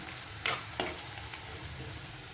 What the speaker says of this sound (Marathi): कांदा आणि वाटण छान असं परतून झाले की यामध्ये मसाले घालून घ्यायचे आहेत